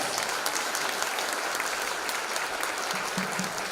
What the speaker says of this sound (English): let's give Japan a big round of applause